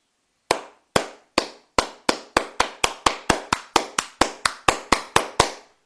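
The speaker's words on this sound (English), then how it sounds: "Clapping." A single person claps by hand about twenty sharp, close claps at a steady, slightly quickening pace, with clean silence between strikes and no voices.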